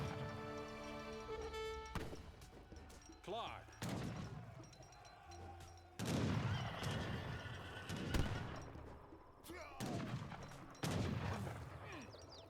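Falconet artillery and gunfire in an Age of Empires 3 battle, with repeated booming shots and crashes in irregular bursts over game music, while a commentator talks throughout.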